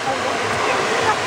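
Waterfalls rushing behind a speaker at a thermal spa with warm water, a steady broadband roar of falling water filling the brief moment.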